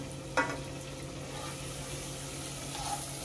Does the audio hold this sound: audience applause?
no